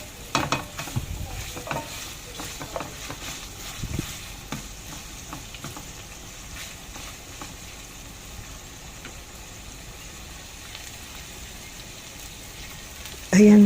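Minced garlic sizzles and is stir-fried in a pan for an eggplant dish, a soft steady crackle with scraping stir sounds near the start and a faint sizzle running throughout.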